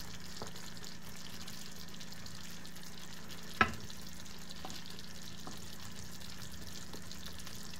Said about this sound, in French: on vient y déposer nos boulettes de viande. On laisse mijoter quelques minutes.